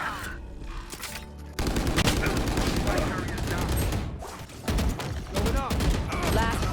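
Missiles launched in a video game match, a loud volley of rapid firing and blasts after a quieter lead-in, with dense rumbling impacts and a voice talking over them.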